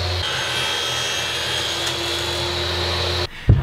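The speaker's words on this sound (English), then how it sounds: "Now I'll just miter the strips that'll wrap out the plywood." Wood strips being miter cut with a power saw, a loud steady whining cut that runs continuously, then cuts off with a brief clunk at the end.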